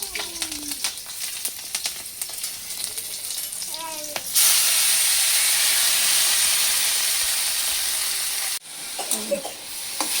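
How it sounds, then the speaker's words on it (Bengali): Leafy greens with black cumin seeds and green chilli fry in a pan of oil, giving a loud, steady sizzle and hiss with a few faint stirring scrapes and a brief pause near the end. "শাকটা ভাজতে দিয়েছি, শাকটা ভাজা হচ্ছে।"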